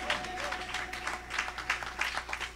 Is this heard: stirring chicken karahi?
no